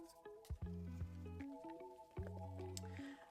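Eco Pour resin is stirred by hand in a cup, giving wet, squishy, sticky stirring sounds with soft clicks from the stick against the container, close and fairly quiet.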